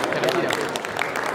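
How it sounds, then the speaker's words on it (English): Audience applause at a marine industry panel discussion, steady and dense throughout with crowd murmur mixed in. "Round of applause, please."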